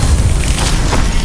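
A Confringo fire spell explodes in Hogwarts Legacy, a loud, deep boom that rumbles on through the whole short moment without a clear break.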